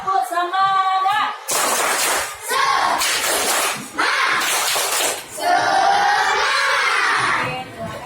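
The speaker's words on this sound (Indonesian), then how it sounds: "Ayo tepuk semangat" Schoolchildren in a primary maths class do the "tepuk semangat" clapping chant, with loud bursts of claps mixed with energetic shouted chanting in several surges.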